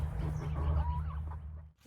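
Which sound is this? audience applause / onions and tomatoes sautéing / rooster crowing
rooster crowing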